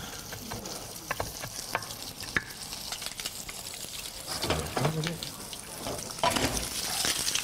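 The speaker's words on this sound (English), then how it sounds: "Nice medium warm pan. A couple of strips of bacon" Bacon strips frying in a medium-warm pan, an irregular crackling sizzle with pops and utensil scrapes, close and moderately loud, with brief voices in the background.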